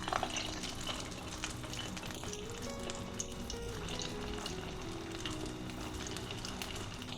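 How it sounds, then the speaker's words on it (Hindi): Kofta balls deep frying in hot oil in a batch, giving a steady, fairly quiet sizzle and bubbling that carries on evenly, with faint clinks and no voices. "थोड़ी देर इनको फ्राई होने देंगे"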